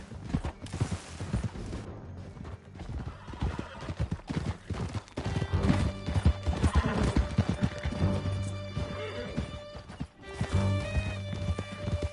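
A horse gallops at speed in the video game Red Dead Redemption 2, with rhythmic clip-clopping hooves, occasional neighs, and a few distant gunshots beneath a musical score.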